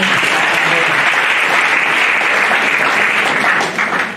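Church congregation breaking into sustained applause and acclaim during a worship service, a dense, steady wash of clapping and cheering that holds loud for about four seconds before easing slightly at the end.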